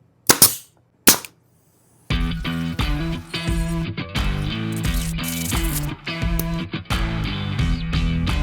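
A brad nailer fires brads into an end-grain to end-grain glue joint in wood, giving two sharp, close pops about a second apart. Music then starts and carries on.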